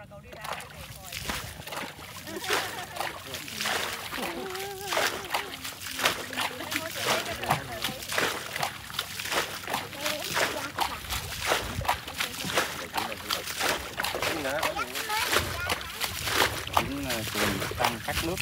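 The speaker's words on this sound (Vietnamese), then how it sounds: "Chúng đang tắt nước cá," People bail water out of a flooded spot to catch fish, producing repeated splashes and sloshing at an uneven rhythm, close by, while voices talk over them throughout.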